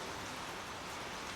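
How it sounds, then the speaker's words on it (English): Soft rain falls in a steady, even hiss, faint and continuous with no talking. "the soft rain falling over him like a gentle blanket"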